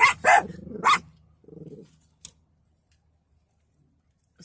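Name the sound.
dog barking and growling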